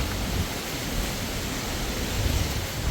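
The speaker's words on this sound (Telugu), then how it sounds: "గాలి దేవుడా కొంచెం శాంతించు." Strong wind gusting outdoors during a sudden summer weather change near a mango tree, a loud, continuous broadband roar that stays steady throughout with slight surges, no voices.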